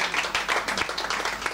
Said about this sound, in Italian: un grosso applauso a Cristiano Marteddu